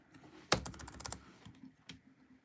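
Fingers tap a computer keyboard with Danish letters in a short, close run of light clicks, one sharper keystroke standing out near the start.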